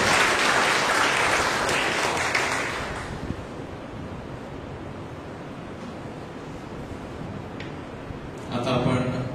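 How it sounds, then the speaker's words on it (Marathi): A church audience at a Grace Ministries talk claps loudly for a few seconds, then the applause fades into a quieter room murmur before a brief burst of sound returns near the end. "प्रभूला जोरदार टाळ्या द्या"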